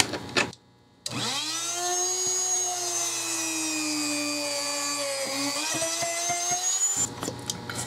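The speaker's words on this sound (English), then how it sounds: "I have my Dremel tool, and I'm just going to drill it right in there." A high-pitched Dremel rotary tool whines steadily for about six seconds drilling a hole in a resin craft piece, close and loud, with a few brief clicks as it stops.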